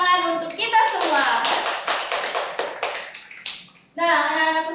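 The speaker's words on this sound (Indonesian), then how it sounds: "Beri tepuk tangan untuk kita semua." A physics class claps hands in patterned bursts of rapid taps, close and lively, with a teacher's voice speaking before and after the clapping.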